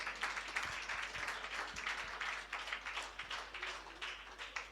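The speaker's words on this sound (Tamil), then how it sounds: "அவர்களுக்காக ஒரு நல்ல கைதட்டு கொடுங்க பார்க்கலாம்." Applause from a congregation at a New Year blessing church gathering, honouring the ministers: a faint, steady patter of many hands clapping, fairly distant and continuous with no voices over it.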